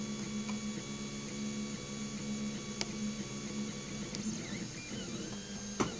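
A Tevo Tarantula Pro 3D printer fitted with an E3D Chimera hot end runs mid-print with a steady mechanical hum and whirring stepper tones, plus occasional faint clicks, close and quiet with no talking.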